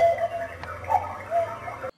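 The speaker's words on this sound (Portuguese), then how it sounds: "Mendes, que narrava jogos pela Rádio Globo, introduziu o som de um relógio Cuco para anunciar o tempo de jogo" A cuckoo clock sound effect used on Rádio Globo football broadcasts to mark game time: a brief tick and a held chiming tone over a steady low hum, close and moderately loud, with no voices.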